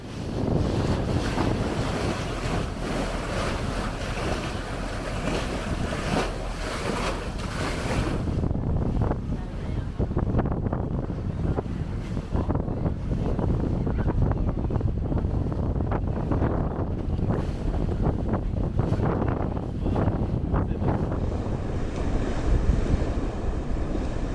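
A small passenger ferry crosses the bay to Bundeena near Sydney, Australia, its engine droning steadily under waves slapping the hull and strong wind buffeting the microphone, a loud continuous rush throughout.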